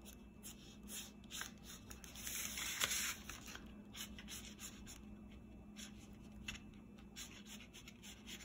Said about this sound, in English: I'm going to draw a curvy line around this